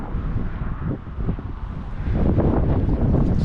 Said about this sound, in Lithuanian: O čia kaip ta smėlio audra atrodo.